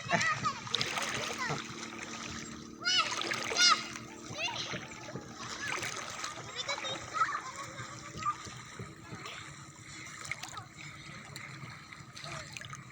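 Water splashes and sloshes in bursts around a bather in the sea, with children's voices chattering and calling nearby throughout.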